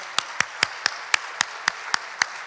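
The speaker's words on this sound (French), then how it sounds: "Une bonne main d'applaudissements à tout le monde" Hand claps ring out at a Collège Boréal graduation ceremony in Timmins, a steady, evenly spaced series of about ten sharp claps, fairly close and crisp, with no talk over them.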